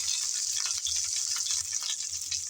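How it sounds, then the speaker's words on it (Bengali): Raw green mango fries with spices in a pan, a continuous close hiss of sizzling with light stirring and rattling movements. "হালকা করে নেড়ে চেড়ে ভেজে নিলাম"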